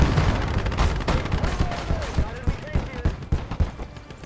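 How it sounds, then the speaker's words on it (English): Artillery and gunfire in a World War II video game battle with tanks and a .50 cal machine gun, dense overlapping blasts and shots rumbling continuously under players talking. "Enemy artillery!"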